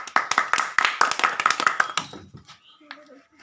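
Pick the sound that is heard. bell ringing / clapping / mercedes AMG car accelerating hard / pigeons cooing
clapping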